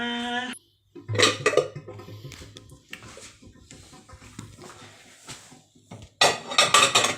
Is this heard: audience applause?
no